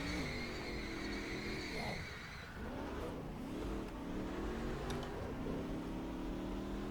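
Race car engines in the NASCAR Racing 2003 video game at Atlanta drone loudly and continuously, with steady harmonic whine rising and falling as the cars accelerate and shift, pack noise layered throughout.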